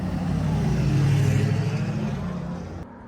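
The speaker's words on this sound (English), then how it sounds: "I'll have to go get my car and drive to their locations." A car pulls away in a small Georgia town, its engine swelling then fading over a few seconds, fairly close, no one talking.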